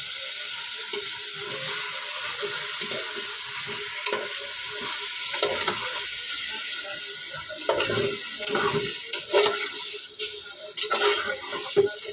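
Chicken meat being stirred in a pot for sinigang, with spoon scrapes and a steady sizzle from the pan running throughout, the stirring strokes getting busier toward the end.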